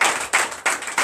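Church congregation at a Sunday service in Benin claps in unison, four loud, evenly spaced group claps each ringing briefly in the hall.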